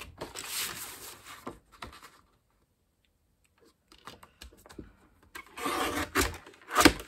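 An old paper trimmer with a worn blade slicing through pages: rough, rasping cuts in short bursts near the start and end, separated by a quiet pause.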